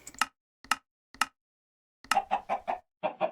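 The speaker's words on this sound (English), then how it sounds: "So this episode we got the chickens" Chickens in the TerraFirmaPunk Minecraft modpack give short, sharp clucks: three separate single clucks, then a quick run of several clucks, all close and clear against silence.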